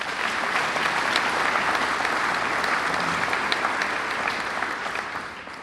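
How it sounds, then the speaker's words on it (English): An audience at a 2025 graduation ceremony applauds, a dense, sustained wash of clapping that swells and then slowly tapers, fairly loud and close. "we would like to please recognize him and give him a round of applause at this time"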